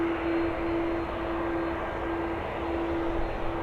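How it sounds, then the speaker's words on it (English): A Boeing 737 jet departs Dublin for Brussels, a steady, fairly faint engine roar with a thin whine running through it for a few seconds. "Next up, a YRY 9LD. It's a Boeing 737. She's heading over to Brussels."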